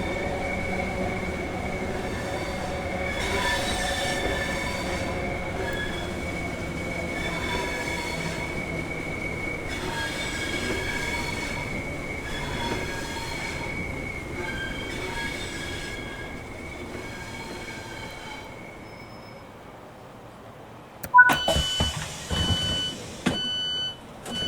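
A Southeastern electric train in Train Sim World 5 rolls into a station with steady rumbling and rhythmic wheel tones, then comes to a stop followed by clunks and door sounds; no speech.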